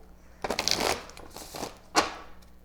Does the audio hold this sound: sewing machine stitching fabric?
no